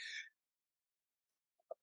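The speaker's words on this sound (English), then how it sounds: "that was a very painful sneeze" One sharp, breathy sneeze bursts out at the start, followed by quiet and then two faint, brief vocal sounds near the end.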